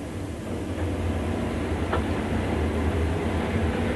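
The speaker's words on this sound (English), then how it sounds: "24 hours a day, trains like these are on the move." A Class 56 diesel locomotive hauling a loaded train of 38 coal hopper wagons, a steady low rumble of engine and rolling wagons passing at moderate distance, with no voices.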